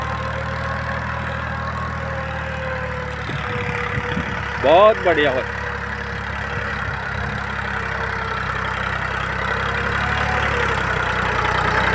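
A Mahindra 265 tractor engine idles steadily under a tiller on a farm field, a low continuous rumble throughout, with someone briefly speaking over it partway through.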